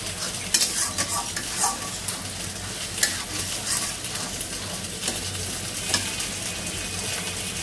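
Spices being sautéed for a chicken roll filling, with a steady sizzle of frying and repeated scraping stirs of a spoon in the pan, close and continuous.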